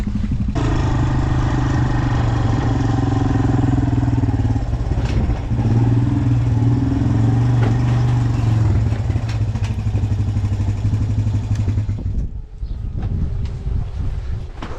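A motorcycle ridden outdoors, its steady mid-pitched engine drone running continuously under heavy wind buffeting on the microphone, with the engine note dropping and settling near the end.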